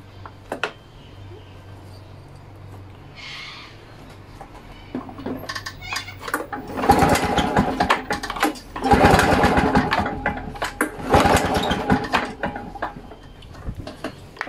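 A Victa 2-stroke engine is cranked for a compression test, with a few bursts of pull-start cranking and mechanical rattling, rising loud and rhythmic in the second half after quieter clinks and handling noises.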